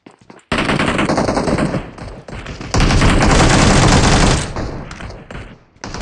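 Loud, close bursts of rapid automatic gunfire in the mobile battle royale game BGMI, a dense stream of shots that swells and fades with short gaps in between.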